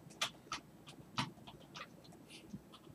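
A big dog panting in the Pokemon Mystery Dungeon Explorers of Time video game, with quick, breathy huffs in an uneven rhythm, some sharper than others, fairly quiet and with no voices.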